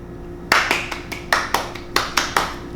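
A single pair of hands claps close by, about eight sharp claps in an uneven rhythm over a couple of seconds against a quiet room.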